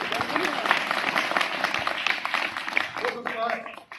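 Schoolgirls applauding at a road safety awareness event at a girls' inter college in Meerut, steady crowd clapping throughout with voices mixed in, easing off toward the end.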